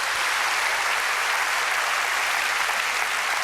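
A studio audience at a televised talk show applauds in a loud, dense, sustained burst of clapping that holds steady throughout.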